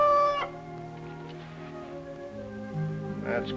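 Rooster crowing in the morning, a drawn-out tonal call that holds and shifts pitch, with short bright clucks at the start and near the end.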